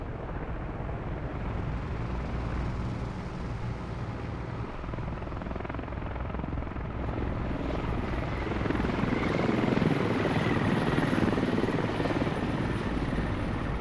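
A helicopter in the military shooter Squad flies nearby with a constant heavy rotor drone, swelling louder and closer toward the end.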